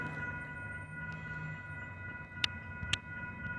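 A southbound Amtrak passenger train, number 702, heads toward Bakersfield, California, with a faint steady rail hum and tonal whine at a distance, plus a couple of sharp clanks.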